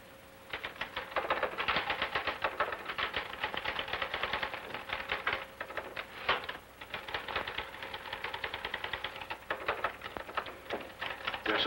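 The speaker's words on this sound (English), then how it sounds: "You're certainly making that typewriter say uncle." Fast, steady clatter of keys struck on a manual typewriter, a dense run of sharp clicks with brief pauses that continues for the whole stretch, fairly close and with no voices over it.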